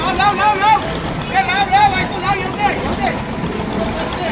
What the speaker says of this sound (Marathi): हे बघा बोट कशी पुऱ्या चालते.